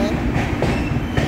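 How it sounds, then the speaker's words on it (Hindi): Purvanchal Express passenger train rolling out of Hajipur Junction in Bihar, a steady close rumble of carriages with rhythmic wheel clatter on the rails throughout. "दोस्तों हाजीपुर जंक्शन से हमारी ये ट्रेन प्लेटफॉर्म नंबर 1 से डिपार्ट कर चुकी है।"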